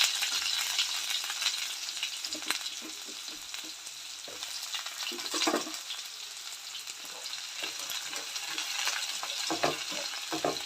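Sliced onions sizzle in a hot pan with oil for a Kerala style dried fish curry, making a steady hiss with scattered stirring clinks and scrapes, close and continuous with no talking.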